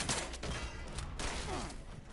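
Gunfire in the video game Fallout 76 comes as a few sharp, fairly faint bursts spaced about a second apart over a low background rumble.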